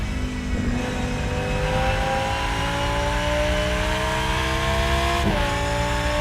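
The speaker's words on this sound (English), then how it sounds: "Oh, the engine sounds a bit loud." A race car engine in the sim racing game Rennsport drones and revs steadily, its tone climbing slowly and then dipping briefly near the end; loud and continuous, with no voices.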